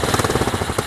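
A 150cc GY6 engine on a mini monster truck idles close up, a steady rapid pulsing chug with even beats and no speech.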